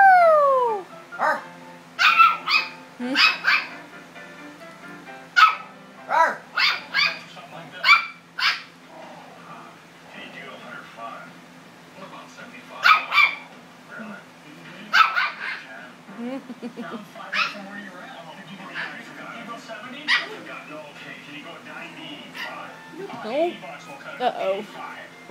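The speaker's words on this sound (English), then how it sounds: "Poodle!" Poodle barking and yipping in scattered sharp bursts, some high whimpers, with people talking and cheering around it.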